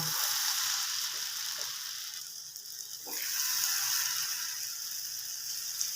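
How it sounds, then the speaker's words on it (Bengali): Potato sticks for French fries sizzling in hot oil, a steady close crackling hiss that dips briefly and then swells again as more pieces go in, with no talk. "তেলটা গরম হয়ে গেছে আমি এবার কিছুটা আলু একটা একটা করে ছেড়ে দেব"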